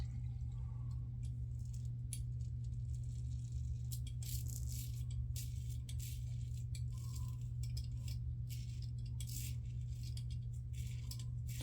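Colorlamb Forester safety razor head rattling during a shave, a faint, irregular series of small clicks and scrapes, close up over a steady low background hum.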